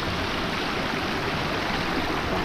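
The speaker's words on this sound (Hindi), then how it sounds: "बहता हुआ पानी" A flowing stream beside hillside fields in an Uttarakhand village rushes steadily and close by, a continuous broadband wash of water with no pauses and no other sounds.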